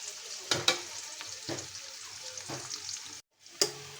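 Onions frying in a pan for a small-fish kachki chochchori, a steady close sizzle broken by a few sharp clatters of stirring, a brief dropout near the end, then another clack.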